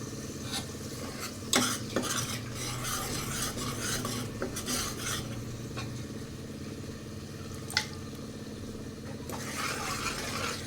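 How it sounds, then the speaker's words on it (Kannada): Ground masala paste for a sprouted-bean sambar fries in hot oil, a continuous sizzle broken by scraping stirs of a spoon against the pan and a couple of sharp metallic knocks. "ಗ್ರೈಂಡ್ ಮಾಡಿರೋದು ಹಸಿ ವಾಸನೆ ಹೋಗೋ ತನಕ ಹುರ್ಕೊಳ್ಬೇಕು ಸ್ವಲ್ಪ"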